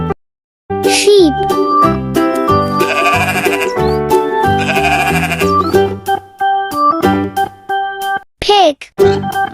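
Sheep bleating loudly in repeated wavering calls, mixed with a bright musical jingle and other layered tones of a children's farm-animal sound montage, with short gaps near the end.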